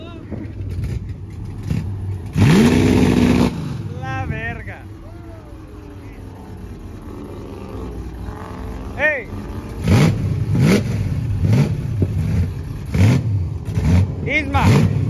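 A truck engine at a truck festival revs in short bursts that climb and fall in pitch, loud and close, with people talking over and between the revs.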